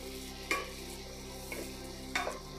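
Onions frying in a pan for a dried-fish curry, a steady sizzle with a few distinct scraping stirs of a spoon against the pan, close and alone without talk.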